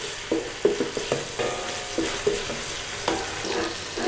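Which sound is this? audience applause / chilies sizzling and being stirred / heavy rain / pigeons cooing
chilies sizzling and being stirred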